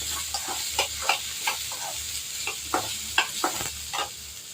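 Curry leaves frying in a pan, a low steady sizzle with irregular crackles and sharp pops, close and moderately loud, with no talking.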